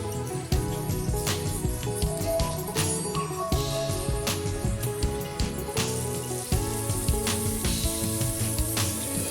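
Tomatoes frying in a pan with oil in a home kitchen, a steady close hiss and crackle that runs without a break alongside faint clinks of utensils.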